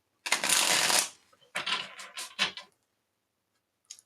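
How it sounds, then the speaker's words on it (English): A tarot card deck is riffled up close in two quick bursts, a longer papery flutter followed by a shorter one, with a faint tap at the end in an otherwise quiet room. "I'm going to shuffle this deck a couple times here."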